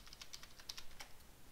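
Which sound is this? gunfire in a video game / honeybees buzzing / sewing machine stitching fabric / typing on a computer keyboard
typing on a computer keyboard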